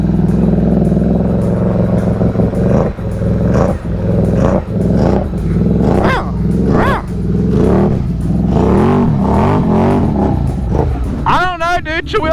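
An off-road truck on mud tires drives through soft mud on an island, its engine droning and revving loudly and steadily throughout, with rising and falling strains, while people talk over it.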